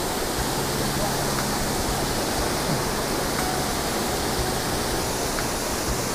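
An outdoor waterfall roars as a constant, full-bodied rush of falling water, loud and close, steady from start to finish with no pauses.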